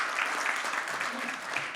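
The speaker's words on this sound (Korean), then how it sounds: "마지막 큰 성원의 박수 한번 부탁드리겠습니다" Audience applause at a talk concert honoring Vietnam War veterans and bereaved families, a short burst of steady clapping with voices mixed in.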